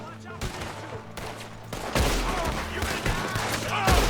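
Rapid gunfire from firearms in Red Dead Redemption 2, a fusillade of overlapping shots and bursts that grows louder and denser toward the end, with no talk over it.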